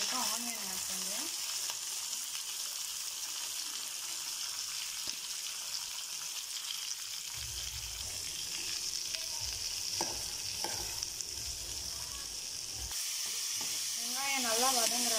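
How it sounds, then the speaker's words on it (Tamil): Chopped onions sautéing in a pan for Tamil-style tomato gravy give a steady close sizzle with scraping stir strokes, and brief voice-like tones come and go over the frying hiss. "நான் இப்போ கட் பண்ணி வச்சுருக்கேன் ஆனியன் ஆட் பண்ணுறேன்"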